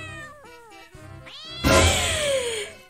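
A cat meows several times in drawn-out, wavering cries, ending in a louder, harsher yowl.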